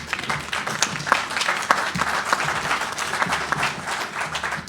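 Applause fills the air at a reservoir groundbreaking ceremony, a lively crowd clapping continuously with sharp individual claps standing out near the front.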